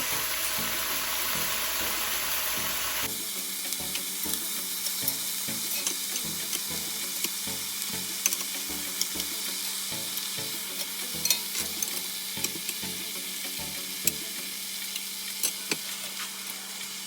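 Oxtail-style meat and vegetables sizzling together in a small pot, a steady fry with regular scraping stirs and occasional clanks of the utensil, close and continuous with no talking.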